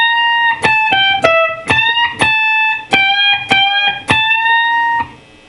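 A slow blues lead lick on electric guitar with quarter bends: about eight picked notes in a steady, unhurried rhythm, the bent notes rising in pitch, loud and clear with no talking.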